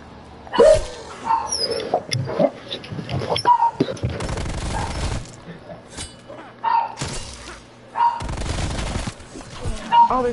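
Dogs bark repeatedly in a video game amid bursts of gunfire and thuds, while players talk over the action.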